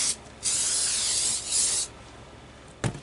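Hair spray misted onto a fringe wig in two sustained hissing bursts, close and fairly loud, followed by a short sharp click near the end.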